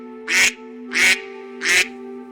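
Ducks quack close by in three loud, evenly spaced nasal calls, each about a quarter second long, over a faint steady hum.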